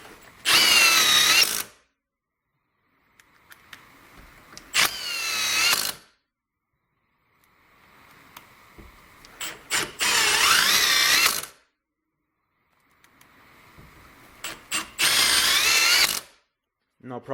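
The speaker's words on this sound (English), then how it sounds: "so back with the impact driver. I'm going to do a little test to see how this does in the wood" A Milwaukee M18 impact driver drives screws into wood in four loud bursts of hammering, each roughly one and a half seconds long, with quiet gaps and faint handling noise between them.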